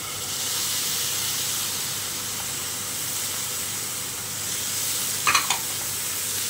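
Tomatoes going into frying onions in a pan for Maharashtrian misal, giving a steady sizzle throughout with a couple of brief stirring clatters near the end.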